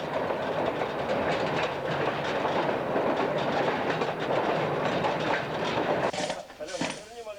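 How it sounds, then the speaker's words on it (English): A coal mine train carrying miners to the coalface rumbles steadily along rails with a continuous clatter, loud and close, then the noise drops and shifts near the end. "Today's miners travel to the coalface by train."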